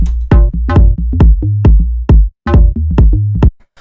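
Low-end bass line from an ambient garage house track, heard as punchy, grooving bass notes with sharp plucky attacks repeating in a syncopated pattern, loud and alone with a brief gap midway.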